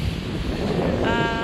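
Strong sea waves surge and wash in a continuous broadband roar with wind noise over the microphone, and a faint voice emerges briefly near the end.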